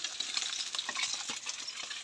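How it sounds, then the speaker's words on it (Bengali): Amdi fish fries in a pan, making a steady bright sizzle with small popping bursts, close and fairly soft, throughout a brief stretch. "আমদি মাছ ভাজা হচ্ছে।"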